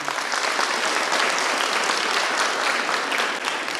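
Continuous applause fills a church hall as the audience claps for a man who answered a question about Saint Lawrence, an even, dense patter of many hands at moderate loudness.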